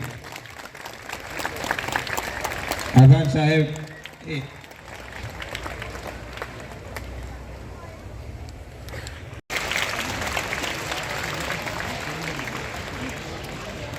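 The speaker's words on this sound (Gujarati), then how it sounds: "સ્વાગત થઈ રહ્યું હોય ત્યારે આપણે સૌ એ તાળીઓથી વધાવી" A crowd claps in welcome at a Talpada Koli Patel community mass wedding ceremony. The applause rises into a brief louder burst, then continues as a steady wash, and someone speaks briefly over it.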